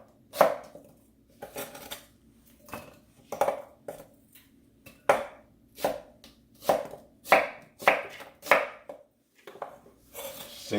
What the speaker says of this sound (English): we'll cut it in half, we'll peel off the edge on that side, same on the other side, and then what we'll do is we'll julienne like so